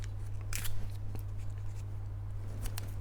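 A strip of tape is snipped and handled at a workbench while wooden tuning pegs are fitted to a flamenco guitar, giving a few crisp close cuts and crackles over a steady low electrical hum.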